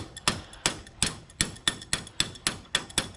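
Improvised hammering on a tractor solenoid terminal during a John Deere 212 garden tractor repair: nine sharp metallic taps in a steady, even rhythm, close and fairly clear.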